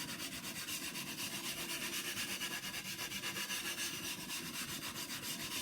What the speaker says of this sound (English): just work this around with no pressure around the coarse diamond stone, really as much as you see fit.